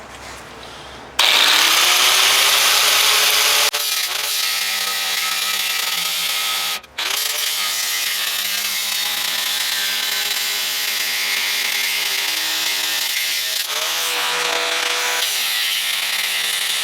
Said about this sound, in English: But I got the grinder here already, so